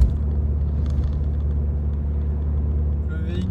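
Renault Clio RS F1 Team R27 with a full stainless exhaust system, its engine running in a steady low rumble from inside the car, with no clear revving and a faint higher whine near the end.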